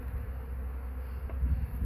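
A steady low hum of honeybees buzzing inside a hive infested with hive beetles, close and continuous without a break, with no talking.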